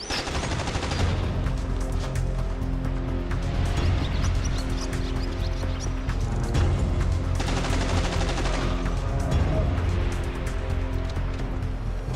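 Sustained, heavy gunfire fills a Ghost Recon US Army Green Berets battle, with dense overlapping shots and bursts rattling continuously at close range, almost no pauses, and louder surges partway through.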